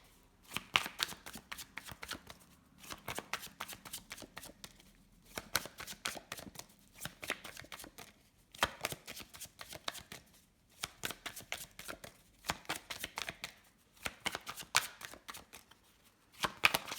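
A deck of Oracle des miroirs oracle cards is shuffled up close in repeated bursts of rapid riffling flutter, separated by short pauses, quiet and with no voices.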